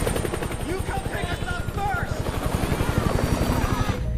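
A helicopter in the 2013 film Hours thrums with a steady, loud rotor pulse throughout, joined by voices and other action sounds over it.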